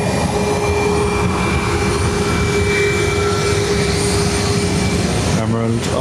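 An Emerald Airlines jet departing Dublin Airport for Edinburgh, a loud steady engine roar with a whining tone that holds throughout and drops away near the end, with speech underneath.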